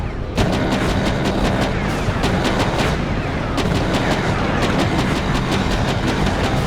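Rapid gunfire and heavy shelling from the Mecha Knights: Nightmare video game, with dense bursts of shots and booming impacts pounding on continuously and loudly, no speech heard.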